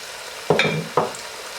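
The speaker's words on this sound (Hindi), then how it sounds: "अब इसमें आप ऐड करेंगे जो कि टमाटर हैं ग्राइंड किए हुए" Ground tomatoes go into a pan of browned fried onions, giving two brief close sizzling bursts with stirring under a steady background hiss.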